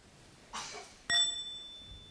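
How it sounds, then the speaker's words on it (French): A meditation bell is struck once at a Buddhist gathering and gives a clear, bright ring that hangs and slowly fades in a quiet room, just after a brief soft rustle. "the sound of the bell."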